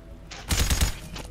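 A silenced SCAR-L rifle fires in the video game Decaying Winter: one quick burst of about four muffled, thudding shots, close and alone.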